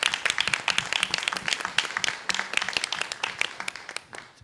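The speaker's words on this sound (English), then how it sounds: "You can clap for him." An audience claps for a student at a school board meeting, a dense patter of many hands that carries steadily for several seconds.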